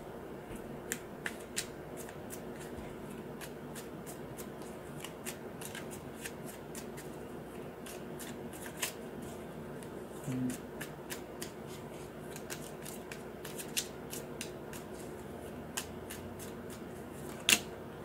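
Tarot cards being shuffled nearby, a quiet run of soft riffles and sharp flicks with occasional louder snaps, no talking.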